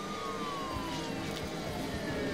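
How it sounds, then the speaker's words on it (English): A wailing siren sweeps downward in the kart racing game Beach Buggy Racing, steady and fairly quiet under engine hum and game sound. "I like how giving you the sirens gives you super speed."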